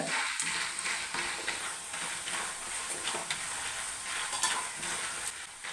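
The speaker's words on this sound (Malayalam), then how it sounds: "sound കേൾക്കുന്നുണ്ടല്ലേ Kili കിലാന്നുള്ള sound" Thin jackfruit chips fry in a little hot oil in a Kerala-style kitchen, a dense crackling sizzle throughout with occasional stirring scrapes, moderately close.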